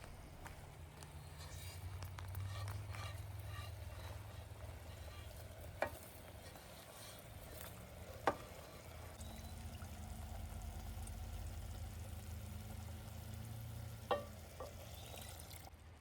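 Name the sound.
rice added to pot with tomato and marinated paneer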